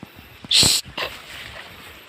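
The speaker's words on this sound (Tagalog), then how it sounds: "Si Winning yung aso namin na white." A white dog gives a short, sharp yelp followed by a smaller whimpering yip, close by against a quiet background.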